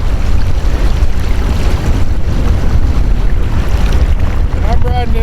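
An electric Torqeedo Ultralight 1103 outboard drives an Old Town Predator 13 kayak at full speed upstream. Steady rushing water and wind noise fill the whole stretch, loud and close, with a brief whistling tone near the end.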